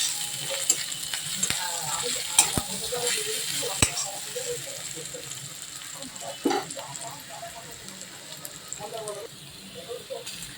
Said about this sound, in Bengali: এরপরে পেঁয়াজ কুচিগুলো দিয়ে দিলাম।